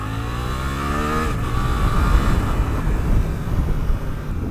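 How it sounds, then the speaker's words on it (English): A 2024 Suzuki GSX-8R motorcycle accelerates hard on the road, its engine note climbing through a gear, then giving way to loud, buffeting wind roar as speed builds. "That was just quarter throttle, bang up through the gears."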